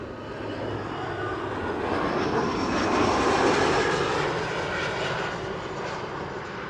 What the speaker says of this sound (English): This is KLM flight 1428, arriving from Lyon.